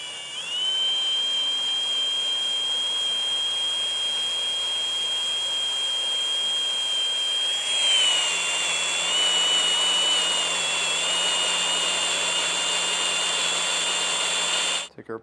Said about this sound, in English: we're going to drill that hole out.